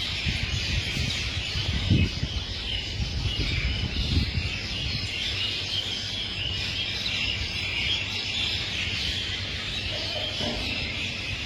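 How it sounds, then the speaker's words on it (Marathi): Birds and insects chirp in a dense, continuous dawn chorus around 3 to 5 in the morning outside a devotees' lodge, a steady hiss of calls with a few low thumps. "जाग आली तेव्हापासून पक्ष्यांचा आवाज"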